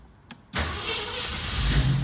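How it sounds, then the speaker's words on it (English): A restored 1970 Ford Bronco with dual Flowmaster exhaust cranks briefly, fires right up and settles into a loud, steady idle close by, with no talk. "I'm gonna fire it up and let you hear it running."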